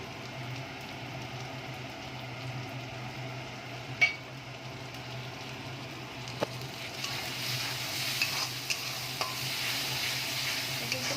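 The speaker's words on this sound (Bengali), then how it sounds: "পেস্টের সঙ্গে ভালো করে কষিয়ে নিলাম" Chicken frying with a spice paste in a pan, a steady sizzle that grows brighter partway through, with a few sharp spatula taps and scrapes against the pan.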